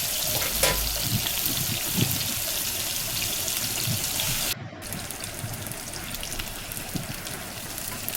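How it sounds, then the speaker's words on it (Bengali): Cut potatoes fry in hot oil for a fish curry, giving a steady crackling sizzle that dips for a moment midway and then resumes, close and fairly loud with no talking. "এখন আমি কেটে রাখা আলুগুলো একটু ভেজে নেব।"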